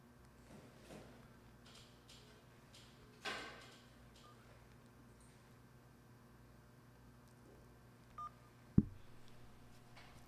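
Telephone dialing and call tones from a phone during a live call-in show, a few faint tonal beeps and clicks scattered through an otherwise quiet stretch, with one sharper tone burst near the end.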